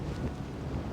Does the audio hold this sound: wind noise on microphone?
yes